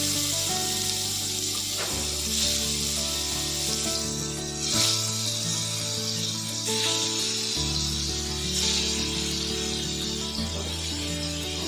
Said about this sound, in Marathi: तेल टाकून झालेलं आहे आणि आता त्याच्यामध्ये बटाटे टाकूया आता आपण पनीर फ्राय करून घेऊया